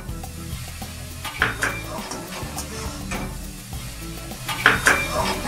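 A spoon stirs masala and vegetables in a hot pan, scraping and clinking against the metal in irregular strokes over a soft, steady sizzle, with a couple of sharper knocks.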